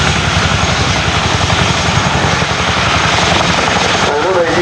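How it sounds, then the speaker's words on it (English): A helicopter at Culdrose Air Day on an airfield runway gives a loud, steady rotor and engine roar that dominates throughout, with talk over it from the crowd or a commentator. "Another unique capability of this helicopter due to its undercarriage configuration is the fact that it can reverse down the runway on just its back wheel."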